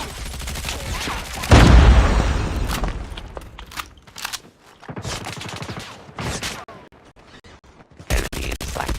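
A grenade explodes in the mobile shooter Call of Duty: a sudden loud, deep boom with a rumbling tail, followed by bursts of gunfire, clattering footsteps and sharp shots.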